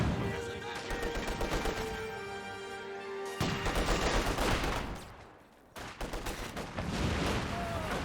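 Gunfire in the World War II strategy game Company of Heroes 2, loud rattling volleys of rapid shots and bursts that pause briefly and then resume, with a voice speaking over the combat.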